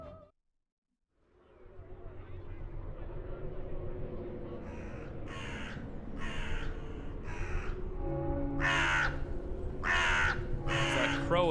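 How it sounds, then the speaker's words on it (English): A crow caws repeatedly in the Salem chapter of the video game Fate/Grand Order, several harsh calls that grow louder and closer together toward the end over a low ambient drone. "It's that crow again, Monka."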